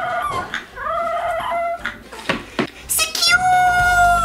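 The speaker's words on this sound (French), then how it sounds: "cette vidéo qui a été virale toute la semaine du petit chien qui essaie de hurler" A small dog tries to howl, giving a series of short, high, wavering yelps and whines that rise and stretch into a longer strained howl near the end, with voices around it.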